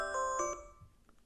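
A phone alarm sounds a short run of bright chiming tones, fairly faint, that fade out after about half a second, leaving quiet room noise.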